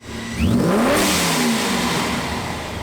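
A ProCharger-supercharged Ford F-150 with a built 5.2-liter Predator V8 revs hard up close, rising to a loud roar with a climbing supercharger whine, then holding and slowly easing off.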